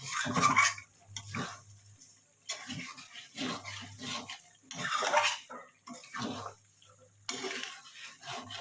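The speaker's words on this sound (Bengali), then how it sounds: "একটু ভালো মতো আমি কষিয়ে নেব" Chicken masala being sautéed and stirred in a pot, bursts of sizzling and spoon scraping against the pot coming in uneven waves with short pauses between, close and fairly loud, no talk.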